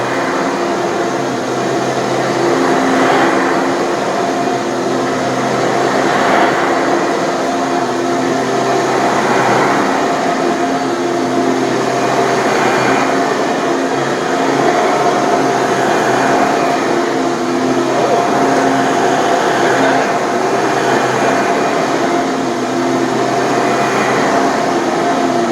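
A new Bissell vacuum cleaner and an old Hoover run during airflow suction tests, giving a steady, loud motor whine and rushing air throughout with slight pulsing, and no voices.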